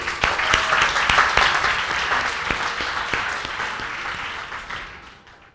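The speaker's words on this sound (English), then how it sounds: "So a round of applause for everyone here." Audience applause at a talk on human potential, a dense, fairly close round of clapping that starts strong and gradually fades away toward the end.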